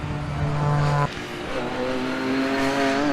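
GT race cars, among them a Porsche 997, race at Donington during a GT Cup round, one engine holding a steady high drone before dropping away as others roar on, loud and continuous with no talk.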